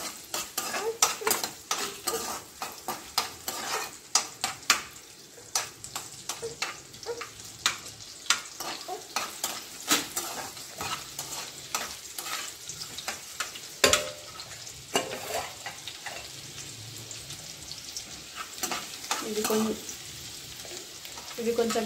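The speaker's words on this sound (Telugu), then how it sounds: "ఇవి కొంచెం పచ్చివాసన పోయే వరకు ఫ్రై చేసుకోవాలి." Chopped garlic and ginger frying in a pan with oil for a spicy chicken snack, a steady sizzle broken by frequent scraping and stirring clinks of a utensil against the pan, close and busy throughout.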